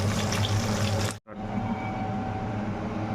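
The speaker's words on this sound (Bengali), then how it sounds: "অল্প জল দিয়ে দেবো বেশি দেবো না" A little water poured from a vessel onto old, dark tamarind, a steady close splashing stream that cuts off sharply for a moment and then continues evenly.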